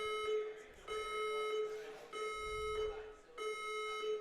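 A fire alarm blares during a competition final: a harsh buzzing electronic tone pulsing on and off in roughly one-second bursts, fairly loud, with faint voices murmuring beneath.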